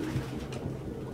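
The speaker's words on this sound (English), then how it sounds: "No human could live with all these fucking pigeons." Pigeons cooing in the video game Detroit: Become Human, soft low rolling coos repeating steadily, faint and close, with no talking.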